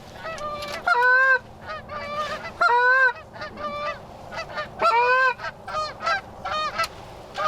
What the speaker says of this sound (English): Geese, geese.